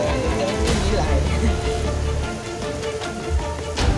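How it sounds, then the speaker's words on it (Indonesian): Heavy rain pours steadily around a bus on a Sumatra–Riau route, a loud dense hiss with a low rumble underneath and occasional sharper splashes. "Hujan ah."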